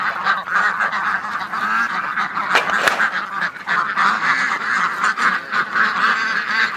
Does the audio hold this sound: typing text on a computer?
no